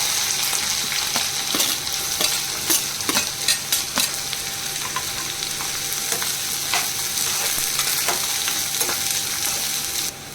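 Green chillies and onions fry in a hot pan with a loud, continuous sizzle and crackle, broken by frequent sharp scraping and clinking stirs close by.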